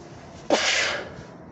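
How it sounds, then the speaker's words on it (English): A single sharp sneeze from a person partway through an Irish whiskey review, a quick intake followed by a loud breathy burst that tails off over about a second, close and alone. "sorry, I sneezed"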